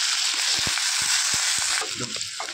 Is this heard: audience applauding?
no